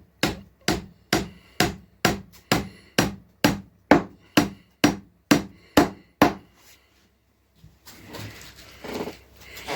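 A hammer drives nails into reclaimed wood boards about fifteen times in a steady rhythm, loud and close, then stops; a rustling, shuffling noise follows.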